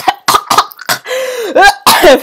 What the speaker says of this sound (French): J'arrête pas de tousser comme une forcée